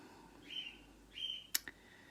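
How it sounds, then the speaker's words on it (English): A pet bird chirps indoors in a few faint, high, thin calls, followed by two quick sharp chirps near the end, heard over a quiet room. "ignore my bird"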